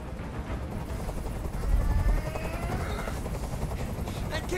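A helicopter's steady rotor thump and engine roar fill a scene in the video game Detroit: Become Human, a broad, loud drone with a brief swell partway through.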